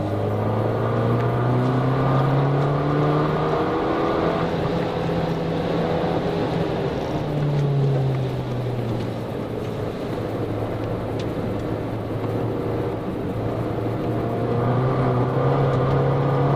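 A car driven hard under power through corners, its engine note rising and falling steadily as it accelerates out of bends, heard close and continuous from inside the cabin.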